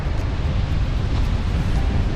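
Sea waves roll in at Madhavpur beach in Gujarat, where a river meets the sea, giving a steady, loud wash of surf with wind rumbling across the microphone and no clear breaks.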